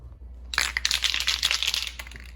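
A spray can coats a sheet-metal front-sump LS oil pan in purple paint, making a close, loud hiss in a few quick pulses that lasts under two seconds after a short pause.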